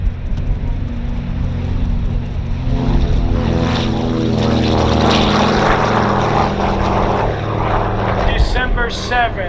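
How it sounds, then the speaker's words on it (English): A Douglas C-53 propeller transport plane passes overhead at a World War II airshow weekend, its piston engines droning loud and steady with harmonic throb that swells mid-pass; crowd voices and announcer-style talk mix in beneath. "here comes the C-53. This is Beach City Baby"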